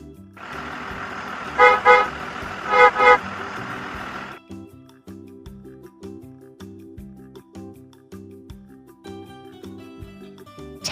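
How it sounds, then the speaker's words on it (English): A bus rumbles along with its engine audible, sounding two short horn honks spaced about a second apart before driving on under a low motor hum. "Bus."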